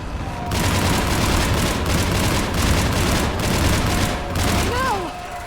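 Enemy fire support pours gunfire into a battle in the video game Mass Effect 3 on Thessia, dense, continuous bursts rolling steadily at close range, with a few sharp energy whines near the end.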